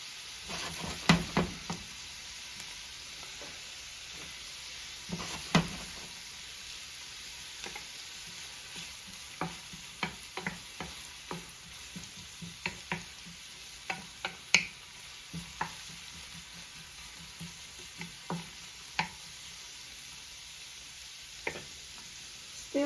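Onion softening in hot oil for Bosnian burek, a continuous close sizzle broken by frequent clicking scrapes and taps of a utensil stirring the pan, with no talking.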